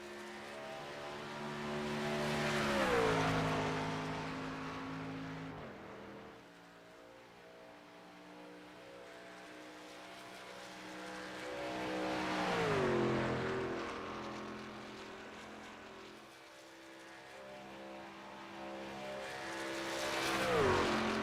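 Race truck engines roar around the track in iRacing during a Morriss Customs Truck Series race, with trucks sweeping past in loud passes whose pitch climbs and then drops, plus a steady engine drone between passes.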